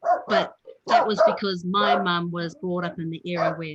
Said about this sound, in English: sorry, that's my dog again